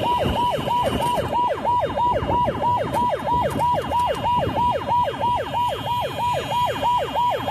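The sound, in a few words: ambulance siren wailing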